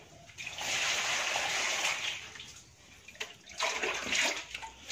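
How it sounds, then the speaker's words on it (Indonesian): Food ingredients being washed in water for a home-cooked lunch, giving a steady close splashing and sloshing with running water, swelling and easing in short surges, with faint voices in the background. "dicuci dulu. Cuci, guys, didelok di sawang."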